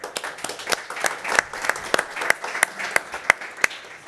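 A modest audience at a deep-tech investment conference claps for a presenter, with distinct individual claps standing out from a thin, uneven background of applause.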